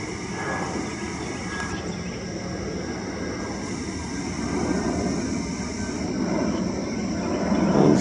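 A steady broadband roar of a low-flying FedEx airplane passing overhead, growing louder toward the end, with no voices.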